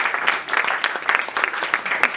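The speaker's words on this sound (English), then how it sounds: "Ladies and gentlemen, big round of applause." Theatre audience applause at a variety show, dense clapping with rhythmic swells lasting about two seconds, moderately loud and close, with no voices over it.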